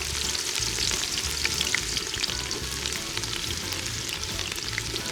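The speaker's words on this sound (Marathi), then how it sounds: "तर गाईज आता आम्ही कांदा टाकायला लागलोय" Onions for chicken biryani sizzle and crackle vigorously in hot oil in a pan, a dense, loud, continuous frying hiss, with low stirring thumps and scraping underneath.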